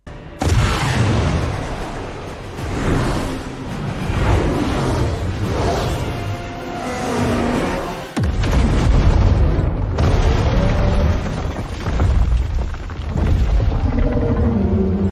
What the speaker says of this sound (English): The rocket launches exactly from the first frame.